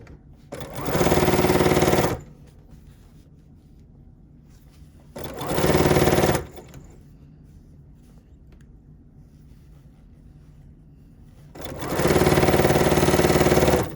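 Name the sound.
sewing machine chain piecing quilt strips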